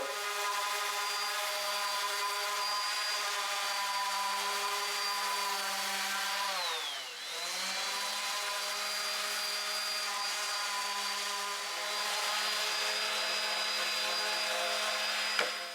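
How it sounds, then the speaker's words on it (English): A power sander whines steadily and loudly sanding wood boards for an accent wall, its pitch dipping briefly partway through before settling back to a constant drone. "we're gonna get started sanding and then go from there."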